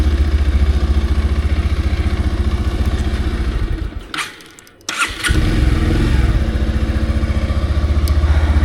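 A Bajaj Pulsar 150 BS6 motorcycle engine runs steadily and loudly while riding. It dips briefly in the middle as if the throttle eases off, then returns to a strong, even drone.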